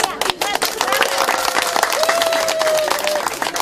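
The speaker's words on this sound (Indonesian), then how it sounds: "Tepuk tangan." Applause from a crowd at a customary wedding ceremony, dense clapping sustained throughout, loud and fairly close, with voices speaking and calling over it.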